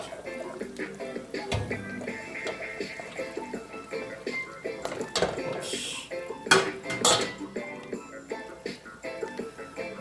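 Boiled green bananas are lifted out of a cooking pot in a Jamaican kitchen, bringing irregular clinks and clatters of metal utensils against the pot, with a few sharper knocks near the end.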